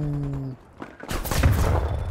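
Video game gunfire through a window: a sharp burst of shots bursts in after a short lull, following a steady tone, loud and close.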